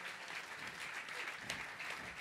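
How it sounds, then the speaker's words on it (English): Concert audience applauding at a Latin night performance in Santo Domingo, a steady wash of clapping throughout with a brief louder burst midway. "Thank you for the applause."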